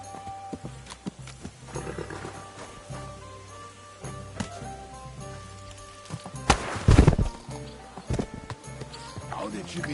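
Horse hooves clip-clop in uneven steps over a low rumble, with a louder burst of hoofbeats and movement near the middle and scattered knocks toward the end.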